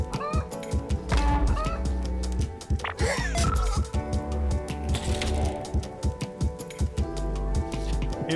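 Chickens cluck repeatedly in the Donut County video game, with short sharp clucks and cracks that come in bursts over a busy, loud game soundtrack, and no one talks.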